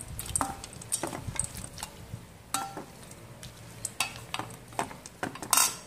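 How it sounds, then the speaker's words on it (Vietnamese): Green papaya salad is tossed with crushed peanuts, giving soft irregular stirring and scraping strokes broken by sharp clinks of a utensil against the bowl, close and fairly quiet, with no voices. "bạn sẽ cho mình một phần lạc đã dập này vào để mình trộn đều lên nhé"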